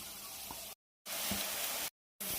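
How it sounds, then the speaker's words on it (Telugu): Chopped onion, green chilies and curry leaves frying in hot oil give a close, steady hiss and sizzle, cut into short bursts by abrupt silent gaps. "హీట్ అయినాక మనం కట్ చేసుకున్న ఆనియన్, పచ్చిమిర్చి, కరివేపాకు వేసుకోవాలి."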